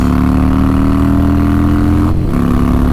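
A motorcycle engine runs loud and close with a steady throbbing tone that dips briefly before picking back up, no voices over it.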